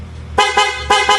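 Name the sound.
stock horn of a Yamaha NMAX v3 motorcycle honking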